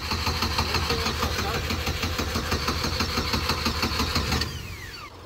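Turbocharged Chevrolet Cavalier engine running at a steady, rumbling idle, close and fairly loud, with a faint voice underneath; the engine drops off near the end.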